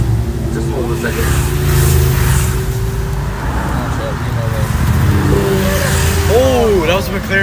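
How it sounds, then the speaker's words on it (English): A McLaren sports car drives past on a road in Los Angeles, its engine a steady loud roar over traffic noise for several seconds while voices talk nearby. "Oh, that was a McLaren."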